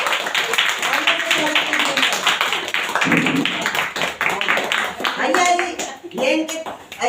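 People at a ceremony honouring student volunteers for a yagya clap to welcome the cameraman. Scattered hand claps sound close by under continuous talking and a few raised voices.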